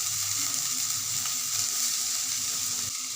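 Finely chopped onion frying in a hot pan gives a steady, close sizzle that holds level throughout, with a faint low rumble beneath and no talking.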